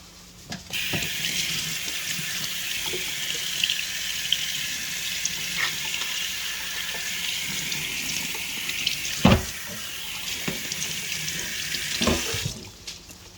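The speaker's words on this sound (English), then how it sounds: "I'm just going to wash this chopping board" Steady rush of tap water running into a sink, with light knocks and clatter as a chopping board is scrubbed beneath it; the flow stops at the end.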